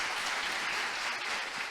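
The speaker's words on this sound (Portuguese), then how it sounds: "Salva de palmas pro grande El Cristo." Dense, steady applause from a conference audience follows a technical talk on PHP internals, with many hands clapping continuously and evenly with no voices standing out.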